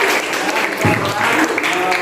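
Brief clapping from a class of students during a lesson game, a busy patter of hands mixed with chatter and voices throughout.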